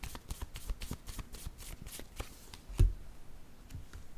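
Tarot cards shuffled by hand in a quick series of crisp riffling flicks, one sharp thump near the end, then a few lighter taps, all close and quiet with no talking.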